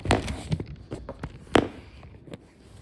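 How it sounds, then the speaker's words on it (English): A sheet of paper is handled and set down on a surface, with close crinkling rustles and a sharper slap near the middle, then faint rustling. "Let me set this page down a little bit."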